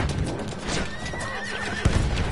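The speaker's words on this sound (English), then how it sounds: "I knew I heard a horse, and I'm like, wait, I hear a horse now." Horse neighing in the Battlefield video game, a single whinny amid steady gunfire and battle noise, with a sharp impact near the end.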